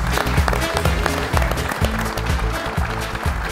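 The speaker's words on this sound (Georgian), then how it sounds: "აპლოდისმენტები." A live audience at a Georgian stand-up comedy show applauds a comedian taking the stage, giving a steady, full burst of many hands clapping, fairly close and even throughout, with rhythmic music running underneath.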